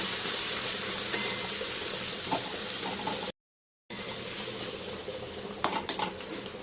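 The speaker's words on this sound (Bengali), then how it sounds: "বাঁধাকপিটা একটু ঘেটে ঘেটে দেবো।" Cabbage being stirred in a pan with a utensil while cooking khichdi, soft scraping and light clinks of the spoon against metal over a quiet sizzle, with a brief dropout midway.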